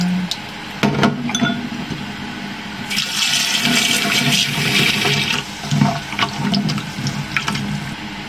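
Walnuts being rinsed under a running tap, with water splashing and gushing into a sink for several seconds and small clinks of nuts and a bowl, close and fairly loud.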